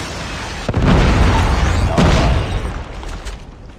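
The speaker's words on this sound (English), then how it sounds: "Predator missile inbound." A Predator missile strikes in COD Mobile, a loud booming explosion with two heavy impacts close together that roll out into a rumbling tail and fade over the last seconds.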